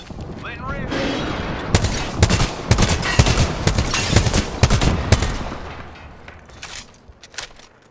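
Rapid volleys of gunfire from a knuckle cluster ability in Apex Legends, dense cracking bursts building through the middle then thinning out, with game combat noise throughout.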